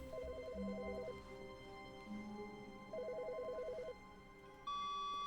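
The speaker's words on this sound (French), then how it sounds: "Il y a un téléphone?" A telephone rings in the video game The Stanley Parable, giving two fast trilling electronic rings about two seconds apart over soft background game music, then a steady tone begins near the end.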